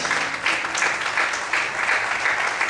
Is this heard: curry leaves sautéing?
no